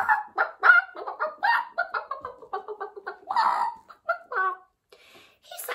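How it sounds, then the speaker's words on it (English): A chicken clucking in quick, uneven bursts of short calls, close and fairly loud, with a few brief pauses between runs. "That was a chicken."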